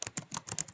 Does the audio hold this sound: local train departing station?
no